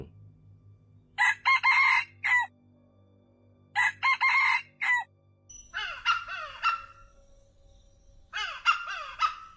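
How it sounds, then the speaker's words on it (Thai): Red junglefowl crowing at dawn in a forest, several loud, drawn-out crows in separate bursts, some nearer and some farther off, with quiet gaps between them. "เสียงไก่ป่าขันมารอบทิศ"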